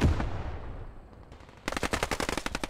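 A squad leader's SMG fires in Post Scriptum, a World War II shooter: after a fading boom and a sharp click, a fast rattling burst of automatic gunfire rings out close and loud.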